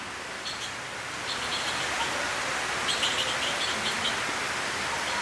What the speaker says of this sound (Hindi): साथ में पक्षियों की चहचहाट इसमें चार चांद लगा देती है।